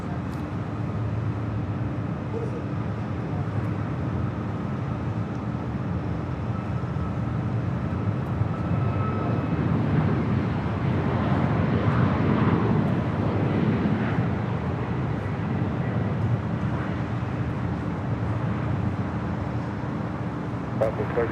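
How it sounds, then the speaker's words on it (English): A United Boeing 737 MAX 8 rolling for takeoff at LAX, a broad, distant roar that builds to a peak midway and slowly eases, under ambient noise and some wind. "we got a plane rolling. We have United Flight 1339 heading Denver, 737 MAX 8"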